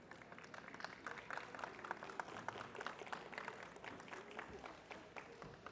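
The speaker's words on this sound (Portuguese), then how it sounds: "Então vamos receber a nossa convidada com uma salva de palmas." A crowd applauds steadily, many hands clapping at a moderate, distant level with no break.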